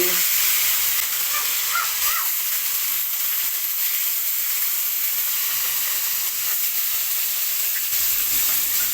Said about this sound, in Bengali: এই যে দেখুন মাছগুলো ভাজির জন্য আমি গরম তেলে ছেড়ে দিলাম